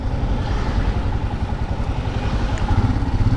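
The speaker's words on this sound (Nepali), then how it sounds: "गान्तोकको जाम चाहिँ यस्तो छ" Motorcycle engine running in a Gangtok traffic jam, a loud close rumbling idle with steady low pulsing throughout.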